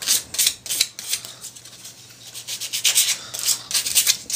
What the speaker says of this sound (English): you want to just sort of rough up the rim a little bit with some sandpaper